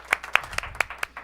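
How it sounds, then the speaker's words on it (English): A small audience at a holiday-special variety show claps for drummer Art Rodriguez, a sparse set of distinct claps in uneven rhythm, close and moderately loud. "Come on, round of applause."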